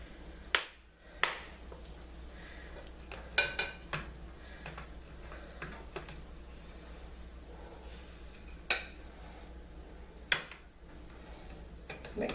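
Shepherd's pie served out of a baking dish with utensils, giving sparse, sharp clinks and taps at irregular intervals against a quiet room background, with no talking.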